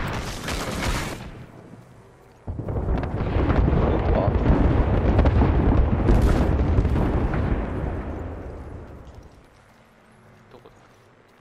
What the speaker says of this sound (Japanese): 空爆よ。